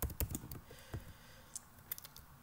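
Quiet, close clicks of keys on a computer keyboard while code for a Java calculator program is typed, coming in an irregular burst at first, then sparse single taps.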